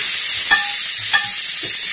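A steady sizzle of ginger-garlic paste frying in hot ghee, with a couple of soft spoon scrapes and clinks against the pan.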